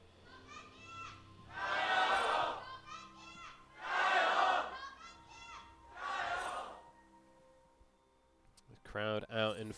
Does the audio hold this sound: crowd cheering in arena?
yes